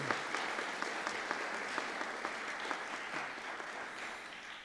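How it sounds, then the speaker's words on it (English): Audience applause at a school parent-teacher association awards celebration, steady dense clapping from a seated crowd held at a moderate, fairly distant level with no voices over it. "That really does deserve another round of applause."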